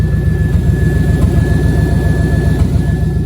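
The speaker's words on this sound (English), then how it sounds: "As you can hear, it is misfiring a little bit because well, that wire is messed up." An OBS Chevy truck engine with stainless steel JBA shorty headers idles loudly and close by with a rough, uneven low rumble, misfiring from a damaged wire.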